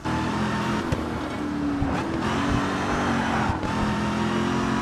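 A race car engine in the video game Grid 2 drones loudly and continuously, its pitch shifting slightly as it revs and eases through gears.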